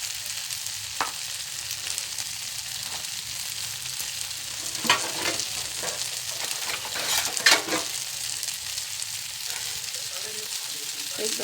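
Marinated soya chaap frying in a pan with capsicum, tomato and onion gives a steady, close sizzle, broken by a few scraping stirs and utensil clinks midway.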